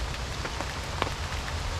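Steady rain patters close by on surfaces during a wet stretch of motorcycle travel, with scattered distinct drops ticking over a constant hiss, no voices present.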